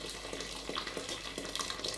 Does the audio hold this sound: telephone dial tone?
no